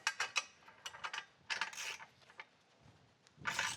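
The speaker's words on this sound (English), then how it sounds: "Use a torque wrench." A torque wrench tightening bolts while a bumper, armor and handguards are fitted to a Polaris ATV: bursts of quick metallic ratcheting clicks, close and fairly loud, with short pauses between strokes.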